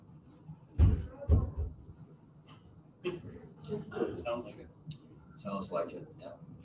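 A door bangs twice, loud and close, in a council meeting room during a committee session, followed by people talking.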